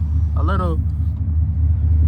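A Chevrolet Camaro SS fitted with aftermarket headers rumbles steadily with a deep, loud, close exhaust drone throughout; a short voice sound briefly rises above it early on.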